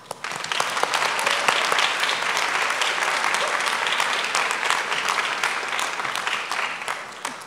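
A large crowd at a high school commencement bursts into loud, sustained applause, dense clapping swelling quickly and holding steady before easing slightly toward the end, with no speech over it.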